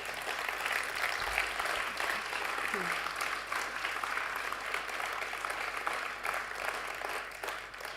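Audience clapping at a winter vocal music festival concert, a steady wash of applause throughout that tapers slightly near the end, with faint voices mixed in.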